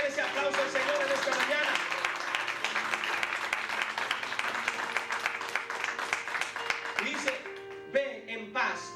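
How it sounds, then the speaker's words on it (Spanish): A church congregation applauds the Lord during a morning service, rapid dense clapping mixed with voices and a held musical tone, then thinning into a few scattered claps near the end. "Denle ese aplauso al Señor en esta mañana."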